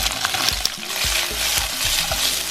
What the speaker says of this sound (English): That's sizzling away.